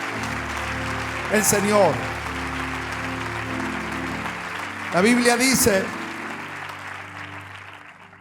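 A church congregation keeps up a steady wash of applause beneath a preacher's amplified voice, which speaks in two brief bursts over the continuous clapping.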